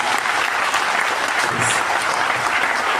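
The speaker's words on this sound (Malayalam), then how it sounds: "എനിക്കും ലിൻസനും വേണ്ടി ആ രണ്ട് വ്യക്തികൾക്ക് ഒരു ക്ലാപ്പ് കൂടി കൊടുക്കാമോ?" An audience claps together in a dense, steady wall of applause. It stays loud and even from start to finish without a break.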